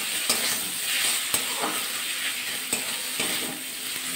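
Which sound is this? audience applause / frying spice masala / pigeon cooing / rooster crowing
frying spice masala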